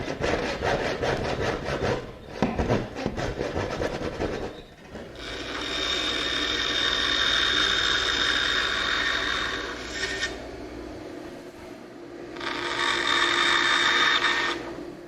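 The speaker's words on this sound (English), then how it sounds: "And now we'll just finish up the corners with a handsaw." A handsaw cuts the corners of a wooden cabinet top, giving long steady rasping strokes that run in bursts close by with short pauses between them, with no talking.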